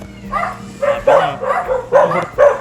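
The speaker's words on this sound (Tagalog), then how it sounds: "Pagka tumatahol na, alam na nila parating tayo eh." A dog at a Philippine house barks in a run of about five loud, close bow-wow bursts with short yips, arriving as people approach.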